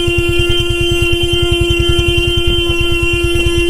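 A motorcycle horn sounds steadily at an oncoming bus on a narrow mountain road in Nepal, holding as a continuous honk over the pulsing engine of the bike.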